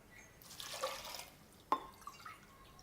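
Water pours into a pressure cooker holding peas in a home kitchen, a faint splashing stream followed by a single sharp drip or clink and a few soft trickles.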